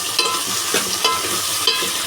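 Tomatoes stirred into frying onions in a pan, with a continuous close sizzle and several distinct scraping strokes of a spoon.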